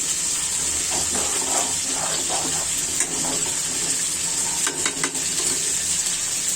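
Kalibaus fish simmering in a pan with a mustard, ginger, garlic, onion and chilli gravy, giving a steady loud sizzle and bubbling hiss throughout with occasional light stirring clinks.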